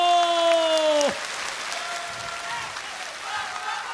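A studio audience applauds at a Korean TV singing contest from 2002. A sustained wash of many clapping hands starts under a brief tonal voice or music and then continues on its own at a steady level.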